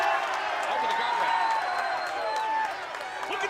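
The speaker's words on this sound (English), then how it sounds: "Look at the people cheering because they're close to their idol, Jeff Jarrett" A wrestling-match crowd cheers and applauds steadily around Jeff Jarrett's match, a broad roar with whistles in the arena, while commentators talk over it.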